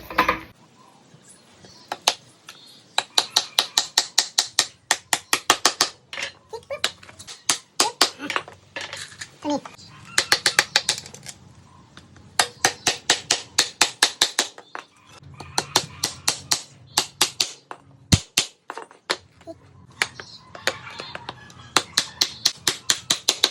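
Wooden pallet boards for a DIY shelf being hammered together in clusters of quick, loud, sharp knocks with short pauses between bursts. A voice speaks now and then in the background.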